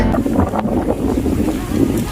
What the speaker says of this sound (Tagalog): medyo mahangin po rito sa aking lugar